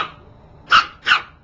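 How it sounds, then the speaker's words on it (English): Two short, sharp puppy barks in quick succession, close and fairly loud, after a brief quiet pause. "She's barking at that leaf over there."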